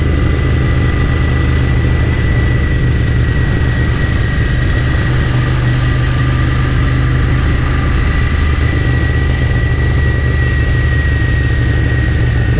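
A motorcycle engine drones loud and close, a steady unbroken roar with no voices, heard while riding the Nasugbu loop's twisting roads.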